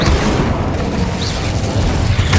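The Incendio fire spell in Hogwarts Legacy erupts as a loud, sustained roaring blast with booming, crackling bursts that run continuously throughout.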